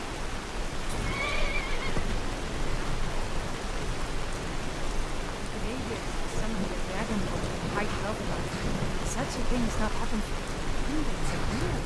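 A horse whinnies briefly over steady, heavy rain noise in modded Skyrim Special Edition, the downpour dense and constant throughout.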